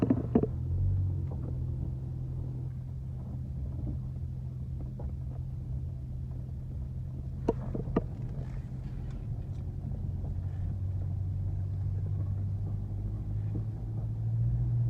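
A Chevrolet Equinox engine rumbles low and steady at close range while the car slowly backs up, with a few faint clicks and knocks midway.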